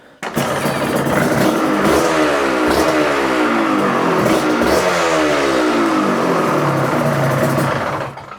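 A Suzuki RGV motorcycle engine, just serviced, starts and is revved hard close by, with rising and falling two-stroke blips repeating over about eight seconds before dropping away.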